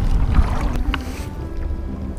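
Legs wade through shallow saltwater over oyster beds on a Florida inshore flat, giving close, soft sloshing and splashing with a gentle watery wash in the background.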